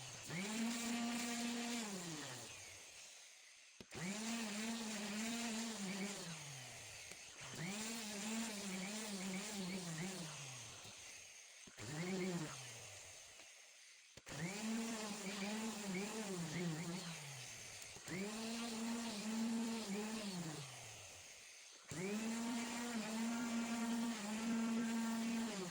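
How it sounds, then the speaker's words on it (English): A power tool sands plywood for a laser-cut wooden handbag in repeated bursts of a few seconds each, its whine dipping and rising as pressure changes, separated by brief silent pauses; faint and without talk. "Then came sanding, the step everyone wants to skip, and the step everyone regrets skipping."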